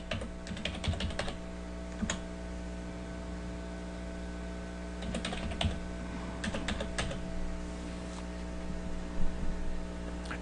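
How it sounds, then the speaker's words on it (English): Someone types connection details into an FTP client on a computer keyboard, with bursts of close, crisp key clicks separated by pauses over a steady mains hum. "We'll type in the new connection details."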